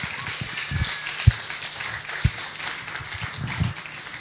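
A church congregation applauding, scattered claps and a few sharp louder hand strikes in a soft, moderately distant patter that stays steady for several seconds.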